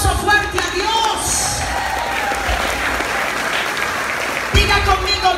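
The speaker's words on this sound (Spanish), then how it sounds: "Dar un aplauso fuerte a Dios." A church congregation bursts into loud, sustained applause and clapping that fills the hall, with crowd voices mixed in and a few sharper claps near the end.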